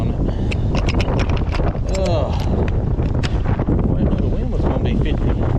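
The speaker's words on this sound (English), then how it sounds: "blowing 50 miles an hour today" Wind blowing around 50 miles an hour buffets the microphone in a loud, constant roar, and a voice speaks briefly under it.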